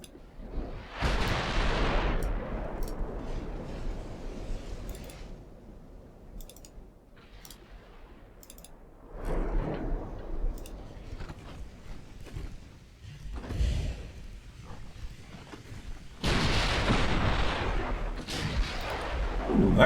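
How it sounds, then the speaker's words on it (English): Naval gunfire in Ultimate Admiral Dreadnoughts, including a hit from a 7-inch gun on the Spanish ship Velasco: loud booming blasts that swell and fade in several separate bursts, with quieter clicking between them. "that was a big hit from the 7-inch from the Velasco"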